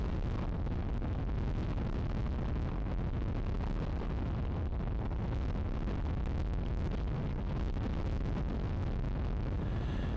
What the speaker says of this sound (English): As one can see, it is very windy.